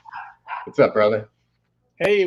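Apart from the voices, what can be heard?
dog barking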